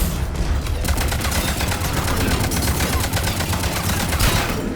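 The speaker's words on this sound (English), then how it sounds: "There's somebody over here shooting at me." Sustained heavy gunfire from a firefight in the video game Mass Effect 3, Legendary Edition, a dense continuous rattle of overlapping shots without pauses or talking.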